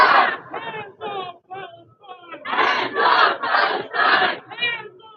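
At a pro-Palestine street protest, a crowd shouts a chant in loud, rhythmic bursts of several voices, pausing briefly between phrases and then swelling into stronger repeated calls.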